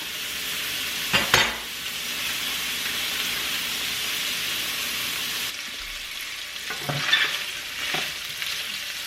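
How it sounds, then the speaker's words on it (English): Sausages frying in a pan for a chicken, sausage and seafood gumbo make a steady moderate sizzle, broken by a few louder clattering stirs and pan knocks, with no talking. "And we are going to let the grease kind of fry out of those."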